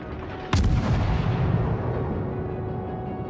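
Naval guns fire a single sharp, loud shot in World of Warships, a Japanese-opponent naval battle, followed by a long rumbling decay over a steady low engine drone.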